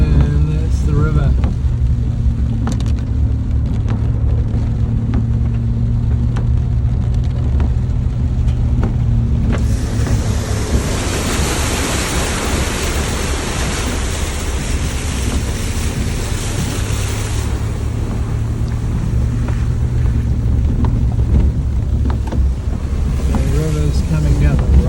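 Floodwater from a river on the west coast of New Zealand rushes down a road in a steady, loud, roaring wash that swells for several seconds partway through, with a person talking faintly over it.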